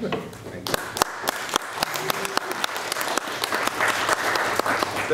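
An audience claps to welcome a speaker at a talk, with sharp individual claps standing out near the microphone over a swelling mass of applause that grows louder toward the end.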